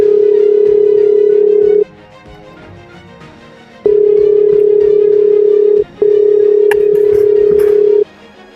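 Ringback tone on an outgoing phone call: three long, loud, steady tone bursts separated by short gaps, with faint background noise and no talk.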